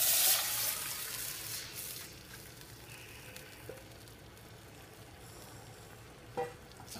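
Green jackfruit tipped into a hot pan of oil sets off a loud sizzling burst that settles into a steady, softer frying hiss, with a faint clink near the end.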